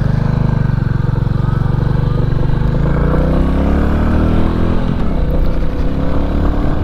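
A 2022 Royal Enfield Classic 350 single-cylinder motorcycle ridden along a road, its engine thumping steadily and loud throughout, with pitch swells as the rider changes speed and no voices.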